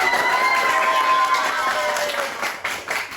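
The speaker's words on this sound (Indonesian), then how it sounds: "Tepuk tangan." At a podcast show, an audience claps for the behind-the-scenes crew, moderately loud applause mixed with crowd noise and some voices, tapering into scattered claps.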